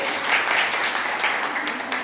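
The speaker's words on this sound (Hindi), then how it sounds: "जोरदार ताली से धन्यवाद दीजिए" Audience applause at an anganwadi workers' fair, a steady wash of clapping from a gathered crowd that holds at an even level for about two seconds without a break.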